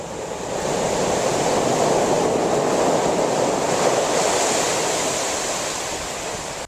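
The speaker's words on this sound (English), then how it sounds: "Keep in mind as you're seeing this, this is a river, not the ocean." Glacial river water rushes steadily with a continuous broadband roar like ocean surf, loud and unbroken, with some wind mixed in and no voices.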